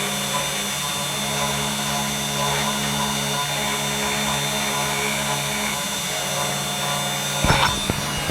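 A 3018 CNC machine engraving aluminum, a steady whining motor and spindle drone with faint cutting texture, ending in a few brief clunks near the end.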